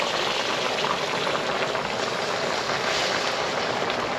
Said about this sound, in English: I want to dump in water enough to cover the top of the cutlets